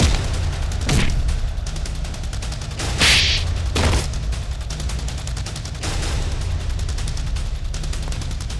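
Gunshots in a crime TV drama standoff scene: several sharp, loud cracks spaced a second or two apart, with a bright burst near the middle, over a tense background.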